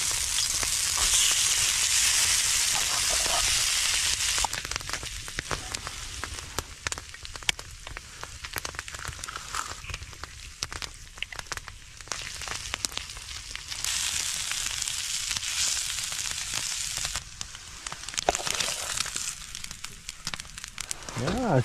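Frozen corned beef hash frying on a homemade griddle over a campfire, a steady soft sizzle and crackle running throughout, with scraping and stirring clicks and occasional quiet talk.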